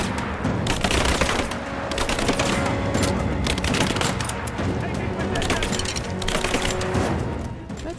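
Rapid gunfire rattles almost without pause during a firefight in Rise of the Tomb Raider, loud and close, with overlapping automatic bursts and occasional heavier booms while a voice talks over the shooting.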